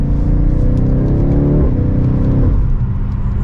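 A 2023 BMW X6 M Competition SUV drives steadily, its engine a loud, continuous low hum. The pitch holds and then drops slightly as the car shifts, with no talking.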